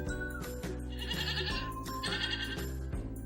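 Repeated sheep bleats, loud and close, sounding in several wavering calls one after another with brief pauses between, with no talking over them.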